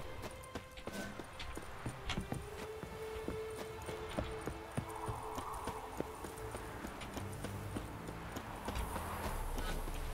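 Rhythmic clip-clop of horse hooves at a quick gallop in The Witcher 3, steady and fairly close, with faint background sounds of the game environment.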